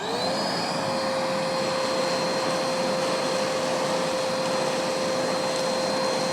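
A Milwaukee M18 FUEL 6-gallon wet/dry vac on low speed sucks up sawdust, giving a loud, continuous whining roar with a steady high tone that holds unchanged throughout.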